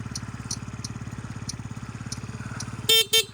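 A Yamaha Jog SA36J scooter idles with a fast, steady putter, and two short, loud honks of its horn sound near the end, close up.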